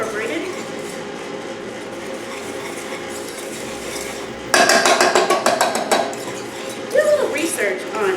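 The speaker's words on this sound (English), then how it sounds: "So start whisking, getting the brown sugar" A whisk works brown sugar and butter together in a pan, starting with quiet scraping, then breaking into a quick, rhythmic run of metallic clinks and taps close by.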